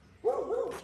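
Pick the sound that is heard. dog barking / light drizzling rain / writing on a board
dog barking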